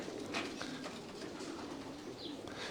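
Racing pigeons, about 1,200 from several countries, coo softly in desert lofts in Dubai under a dense, steady background hiss, with a faint flutter of wings.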